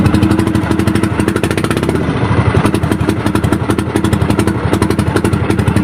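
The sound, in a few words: fishing boat engine running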